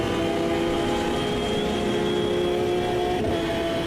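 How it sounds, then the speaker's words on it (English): A race car engine screams at high revs in the Automobilista 2 racing game, a loud sustained whine that holds steady before dipping slightly near the end. "Yes, my engine screams louder than yours."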